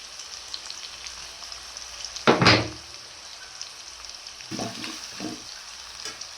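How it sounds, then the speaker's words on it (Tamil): Sliced onions sauté in a hot pan with a light salt sprinkle, sizzling softly and steadily, with a loud stirring scrape near the start and a few more scrapes and sizzle bursts later. "வெங்காயம் நல்லா வதங்கட்டும் லைட்டாக ஒரு இன்ச் உப்பு சேர்த்துக்கலாங்க"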